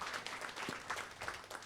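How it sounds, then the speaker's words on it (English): Audience applause at the close of a KL Festival talk on heritage trails and tales, a steady wash of clapping from a crowd heard at moderate distance, fairly faint and even throughout. "A big round of applause."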